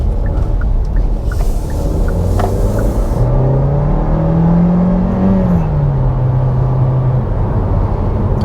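A 2021 Kia Seltos SX Turbo accelerating from inside, engine pitch climbing steadily through a gear, dipping at a shift and then holding, with a loud steady cabin drone throughout.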